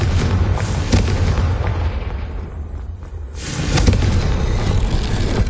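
A Confringo fire spell explodes in the video game Hogwarts Legacy, heard as loud, dense booming blasts and rumbling that ease off briefly before a fresh surge of heavy explosive roar.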